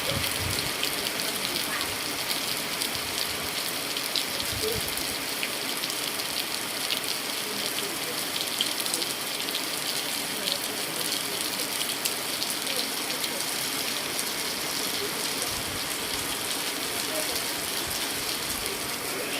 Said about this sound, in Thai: นี่ ก็ฝนตกเนาะ FC นะฮะ